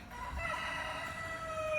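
A chicken calls nearby in a drawn-out, crowing cry, fairly quiet and alone against a faint background.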